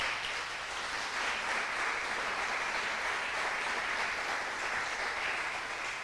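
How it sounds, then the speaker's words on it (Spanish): A church congregation applauds together in a steady, unbroken wash of clapping that holds at an even level for the full stretch, with no voices rising above it. "usted le da un aplauso al Señor Jesucristo."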